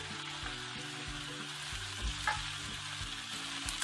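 Cabbage, onion and potato stir-fry for jjajang sauce in a steady, close sizzle, with faint scrapes of stirring over the frying hiss.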